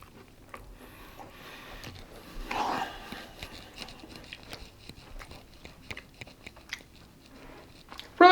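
Close, quiet biting and chewing of a grilled cheese sandwich made on Carbonaut keto bread, one crunchy bite followed by soft, irregular mastication sounds.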